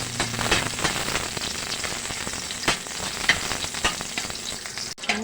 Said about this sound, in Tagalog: lagay na natin si bawang.